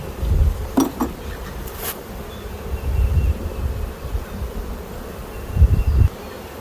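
Honeybees crowd a hive frame during a nuc split, their soft steady buzzing humming close throughout, with a few brief louder buzzes as bees fly near and low thumps of handling.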